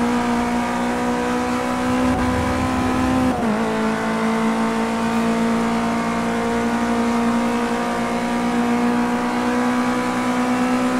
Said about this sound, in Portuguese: O barulho do carro é muito legal.